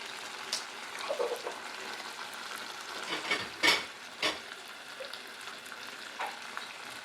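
Narthangai citron pickle cooking in a pan with salt and spices as it is stirred: a soft, steady sizzle with occasional scraping strokes from the stirring, fairly quiet and without any voices.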